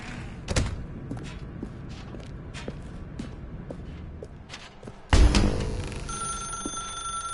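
In The Stanley Parable video game, a telephone rings, with bell-like tones that repeat among thumps and footsteps, and then a loud thud near the end.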